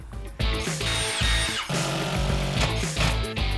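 A power drill driving fasteners through wooden desk support brackets into wall studs, loud and close, in repeated bursts of whirring with brief pauses between runs.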